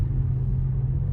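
A low, steady Audi car engine rumble on ice in Finland, continuous and fairly close, with no voices.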